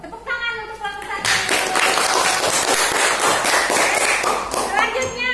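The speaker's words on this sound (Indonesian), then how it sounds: "Tepuk tangan untuk kelompok satu" A classroom breaks into applause for the first student group, a burst of many hands clapping together for about three seconds after a brief moment of voices, then fading back toward talk.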